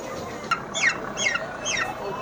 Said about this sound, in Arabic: ده الرومي الابيض اهو.